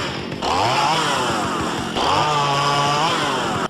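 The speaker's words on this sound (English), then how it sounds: "She tugged a string, and the chainsaw in her hands revved to life." A chainsaw revs up twice in quick succession, each pull rising into a loud, buzzing whine close by, with no voices over it.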